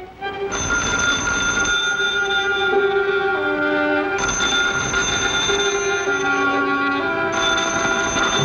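An old-fashioned telephone bell rings loudly in three long bursts with short gaps between them, a bright metallic trill that stays close and clear, with no voices.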